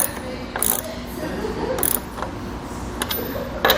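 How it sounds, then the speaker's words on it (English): Lug nuts on a Demco trailer spare tire mount are tightened with a ratcheting tool, giving a few short clicking ratchet bursts spaced apart over low background noise, fairly close and moderately loud. "And once you get the lug nuts tightened down, you're good to go."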